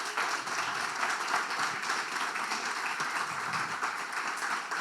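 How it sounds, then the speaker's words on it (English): An audience at a Bitcoin mining energy infrastructure talk gives sustained applause, a dense, steady wash of many hands clapping for nearly five seconds. "Give him a big round of applause."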